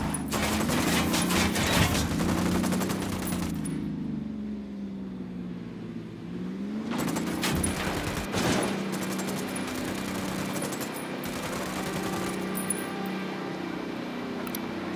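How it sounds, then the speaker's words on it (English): Sustained automatic gunfire in the video game Ghost Recon Wildlands, loud rapid shots in two long bursts separated by a brief lull with a droning engine-like tone underneath. "Opening fire."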